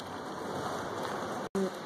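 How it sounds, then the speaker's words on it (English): Steady rain falls outdoors near a decorated tree, a dense continuous hiss that holds evenly and breaks off briefly for a moment near the end before resuming. "Oh my God, it's raining."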